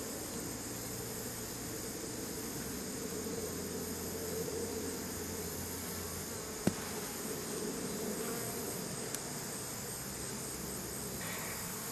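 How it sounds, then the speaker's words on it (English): A steady, dense buzzing of several hundred honeybees close by around a log during honey super removal, continuous and even, with a couple of faint clicks. "I've got several hundred bees hanging around the log there"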